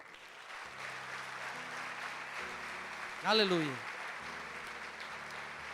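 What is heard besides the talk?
congregation applauding in church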